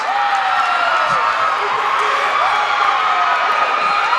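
Rivier home crowd roaring and cheering at a college men's basketball game after a late shot in a one-point contest, a dense, steady wall of voices and whoops sustained at full volume throughout.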